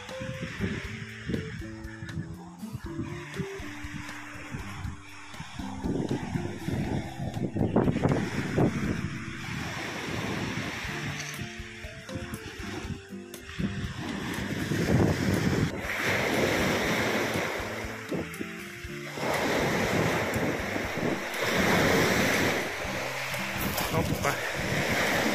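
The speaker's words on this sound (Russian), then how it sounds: "Ветер немного дует." Strong wind gusts buffet the microphone on the Sudak seafront in Crimea, with waves washing in the background and someone talking intermittently.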